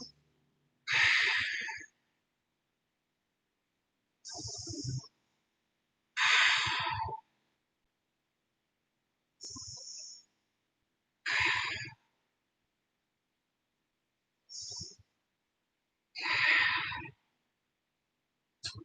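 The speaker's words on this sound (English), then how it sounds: "Breathing here." Audible breaths during a yoga class, separate slow inhales and exhales at regular intervals with silence between them, close and fairly loud.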